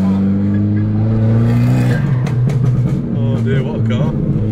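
A tuned Abarth 595 fitted with a TD04 turbo accelerates hard, its engine note climbing loud and strong with layered harmonics, while people talk excitedly over it inside the cabin.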